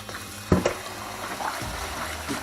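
Water poured into a bowl of basmati rice for washing in a kitchen, with a brief splash near the start followed by soft, faint sloshing and trickling, no talk.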